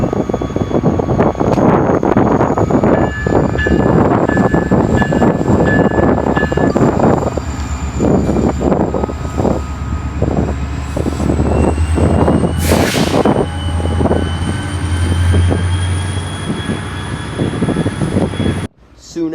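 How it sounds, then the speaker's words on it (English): An IHB freight train led by rebuilt slug IHB 2021 paired with an XCN GP40-2WL rumbles past loudly and close, with a steady low engine drone, rolling wagon noise and a horn-like tone midway before it fades out. "Leading is IHB 2021, a rebuilt slug paired with an XCN"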